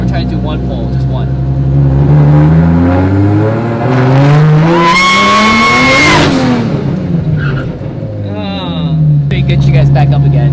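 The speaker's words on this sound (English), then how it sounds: "that squealing you're hearing is the resistance of the tire" A drift car's tires squeal loudly in a parking lot, a rising wailing screech that peaks over a revving engine and then fades, with a person talking over it.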